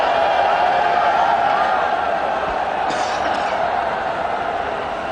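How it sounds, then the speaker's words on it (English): Large cricket stadium crowd during an India T20 match, a dense, steady roar of cheering and chatter filling the space, loud and continuous, with a commentator talking over it. "Great crowd in. And they're loving every bit of it."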